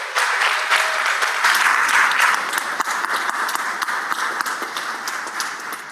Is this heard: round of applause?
yes